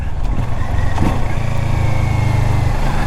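A 2017 Kawasaki Versys 650 motorcycle engine droning steadily while riding, a loud low rumble with a rising tone toward the end and wind noise over it.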